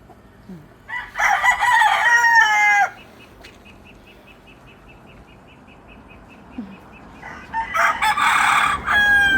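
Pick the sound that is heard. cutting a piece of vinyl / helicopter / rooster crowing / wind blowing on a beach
rooster crowing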